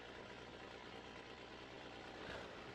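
A truck engine in the off-road driving game Spintires runs at a steady idle, a continuous rumbling drone with a low throbbing pulse, faint and even with no talking.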